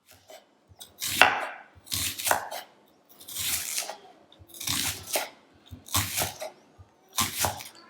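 Roma tomatoes are sliced with a knife on a cutting board, heard as seven or so distinct bursts of close, crisp cutting and knocking, separated by short pauses, with no talking.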